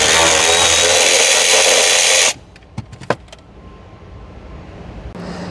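A power tool whirs loudly and steadily while removing a 13mm nut from the rear seat of a Mercedes CLK, then cuts off abruptly, followed by a few metallic clicks and clinks.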